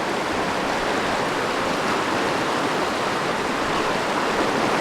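The flooding Poudre River roars through a Colorado Rocky Mountains canyon, swollen by heavy rain into a flash flood, making a loud, steady, unbroken rush of churning water with no voices.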